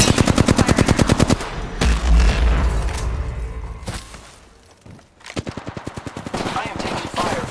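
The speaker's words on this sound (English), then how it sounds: "I am taking fire, friends." Rapid automatic gunfire in a shooter video game, with loud bursts of closely spaced shots, a heavy boom in the middle, a brief lull, then another sustained burst.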